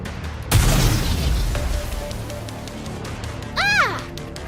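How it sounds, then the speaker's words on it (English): Unstable homemade explosives go off in a combat scene, with a sudden loud boom followed by rumbling debris and a later sharp, sweeping burst, close and forceful, with no voices. "They appear to be homemade. The explosions aren't stable."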